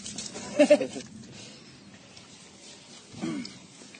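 A young boar tamed by a soldier gives a couple of close, loud squealing grunts near the start, then a softer grunt later, over quiet outdoor background.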